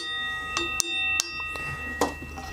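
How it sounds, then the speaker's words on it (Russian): A thin 300 mm steel sprocket, no more than 7 mm thick, being machined rings out like a bell: four or five sharp, clear metallic strikes, each with a short shimmering ring over a steady background hum. "Звездочка весело звенит"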